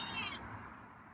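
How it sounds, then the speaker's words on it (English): A short, soft meow from a hungry feral cat, fairly faint and close, trailing off quickly in a quiet room. "so now you're starting to meow"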